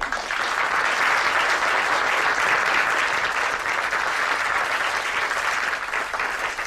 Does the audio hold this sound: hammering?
no